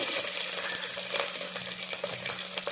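Green chillies sizzle steadily in hot oil in a pan with spices, making a continuous crackling fry for vegetable dum biryani, with small spatters and stirring clicks close up.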